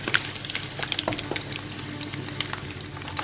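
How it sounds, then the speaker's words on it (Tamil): Dried chillies and curry leaves fry in a generous amount of hot oil, crackling and popping steadily and close up with busy, irregular sizzling throughout, without anyone speaking. "இப்போ பொரியுது நல்லா."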